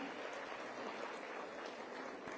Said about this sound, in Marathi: एकदा जोरदार टाळ्या वाजवून आपण आपला समर्थन सिद्ध करूया.